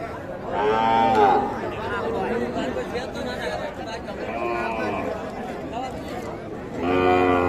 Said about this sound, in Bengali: শাহিওয়াল জাতের বকনা বাছুরগুলো ক্রয় বিক্রয় চলছে